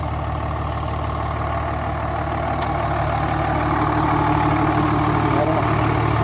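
A diesel engine fitted with rebuilt common rail injectors idles steadily and loudly up close, a continuous low rumble with an even, unbroken rhythm and no voices over it.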